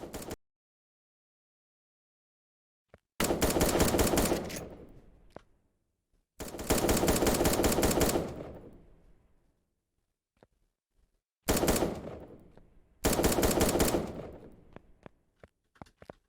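Automatic gunfire from a scoped gun in the video game 1v1.lol, four loud rapid bursts separated by silent gaps, each burst trailing off, with a few faint clicks and taps between them.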